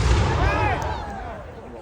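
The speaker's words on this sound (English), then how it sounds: "Okay, gentlemen, fire and reload at will." A single loud gun blast from a volley at the Edinburgh riding marches cracks out close by, then rolls away in a fading echo over the next second or so.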